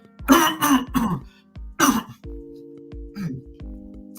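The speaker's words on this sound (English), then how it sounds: "clear my throat, because I got a lot to say." Someone clears their throat several times in quick, rough bursts, close up, followed by a faint hum.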